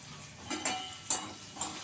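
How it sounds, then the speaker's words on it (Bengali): Beans, potato and capsicum frying in a pan with salt and turmeric for a sweet vegetable dish, a soft, quiet sizzle with three brief scraping stirs of a utensil, close by and with no voices. "নুন হলুদ দিয়ে আবার আমি সবজিটাকে একটু ভেজে নেব।"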